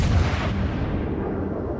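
Heavy naval gunfire from the ARP Takao cruiser in World of Warships, a deep booming salvo with a long rumbling decay over roughly two seconds, loud and without speech.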